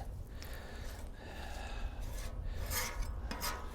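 Oil being spread across a hot Cuisinart 360 XL steel griddle, a raspy scraping and rubbing texture with intermittent hissing strokes, close and moderately quiet.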